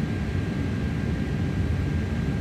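An Airbus A330 in Microsoft Flight Simulator 2024 starts its takeoff roll at Birmingham, a steady loud roar of jet engines with a broad rushing hiss and no talking.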